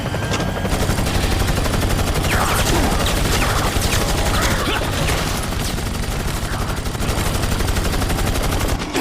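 Sustained automatic gunfire in a Resident Evil 4 cutscene as a gunman opens fire on Leon, a loud, unbroken rattle of rapid shots filling the whole stretch with faint voices beneath.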